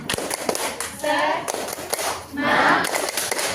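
A classroom of students doing a rhythmic spirit clap, sharp patterned claps in quick groups mixed with children's chanting voices, close and lively, with surges of group shouting.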